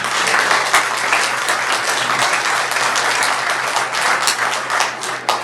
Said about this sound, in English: I like to think it's the first round of applause I've ever had up here